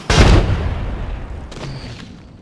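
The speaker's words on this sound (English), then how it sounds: "Look out, grenade." A single loud, close grenade blast in the battle royale shooter Apex Legends hits sharply and rolls off in a decaying rumble, followed by fainter thuds.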